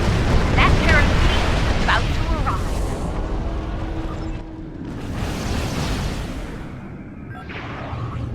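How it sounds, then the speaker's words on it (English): A volley of torpedoes detonating in the space game Star Trek Online, heavy rumbling blasts and whooshes that swell and fade in waves, with voices talking over the combat. "volley of torpedoes"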